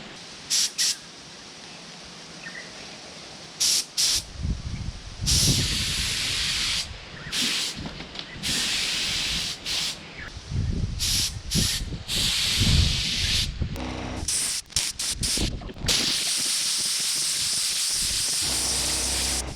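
Bursts of spray-gun hiss come and go outdoors on a breezy day, painting Suzuki Stockman LJ81 car parts, long steady blasts broken by short pauses, loud and close, with no talking.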